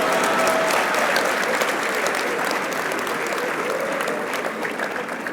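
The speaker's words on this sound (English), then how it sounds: "clap for me now" Sustained audience applause fills a leadership conference hall, a dense, even roar of many hands clapping at once, loud and steady throughout with slight tapering toward the end.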